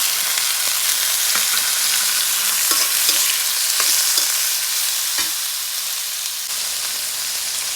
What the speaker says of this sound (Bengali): এখন আমি উস্তা ভাজি করব